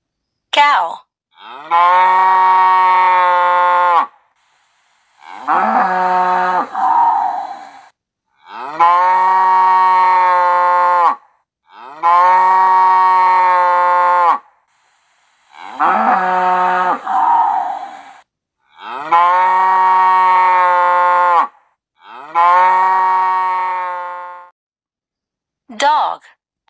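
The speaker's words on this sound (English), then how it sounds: "Cow." A cow moos in a long series of loud, drawn-out calls, about eight separated by short pauses, each moo steady and close with nothing else heard between them.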